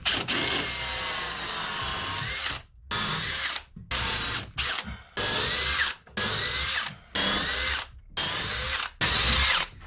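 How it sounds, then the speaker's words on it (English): A power drill whines in repeated bursts while drilling holes during a wooden boat restoration, about eight short runs separated by brief pauses, close and steady. "time to drill some holes"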